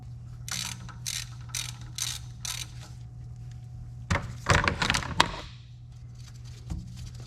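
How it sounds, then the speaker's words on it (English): Hand tools work loose a car's thermostat housing, with a run of quick ratchet clicks in bursts followed by a louder cluster of metallic clatter, all over a steady low hum. "I'll go ahead and pull this thermostat housing off and get that changed out real quick"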